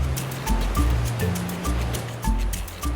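A river surfing wave churns in a constant loud rush of moving water, with low thuds and a few faint tonal clicks riding over the roar.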